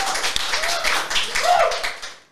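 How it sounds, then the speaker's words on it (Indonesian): A short burst of clapping from a small group on an Indonesian sports podcast, lively and close, with a voice rising briefly over it before it fades out. "mau tepuk tangan dong."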